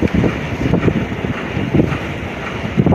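Wind at sea buffets a fishing boat's microphone in heavy, rumbling gusts, with a constant roar and periodic surging bursts and no voices.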